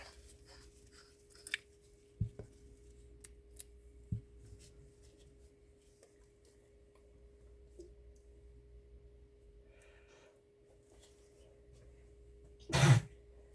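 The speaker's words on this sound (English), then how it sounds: "I sneezed inside my mask" A short, sharp sneeze muffled inside a face mask, heard once near the end of an otherwise quiet resin-crafting session with faint ticks and handling noises.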